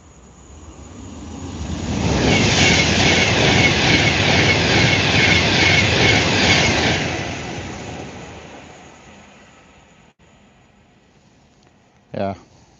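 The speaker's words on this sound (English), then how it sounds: "Avanti West Coast Class 390 batting through." A fast Avanti West Coast Class 390 electric train roars through a station without stopping at close range, swelling quickly into a loud, sustained rush with faint rail clatter, then fading away, followed by a brief sharp tone.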